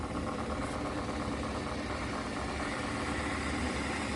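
A Bissell PowerFresh Lift-Off Pet steam mop gurgles steadily as it heats its water, a constant rumbling, bubbling drone with no pauses and no one speaking.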